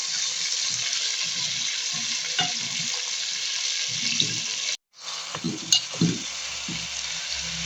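Sliced onions browning in hot oil in a frying pan give off a steady, bright sizzle, with a brief drop near the middle before the frying hiss resumes alongside soft clatter.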